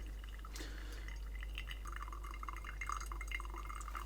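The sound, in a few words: water pouring over coffee in V60 brewer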